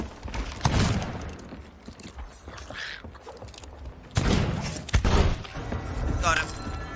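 Gunfire in the pirate video game Sea of Thieves, a few sharp shots and thuds scattered among game sounds, with players talking over the action.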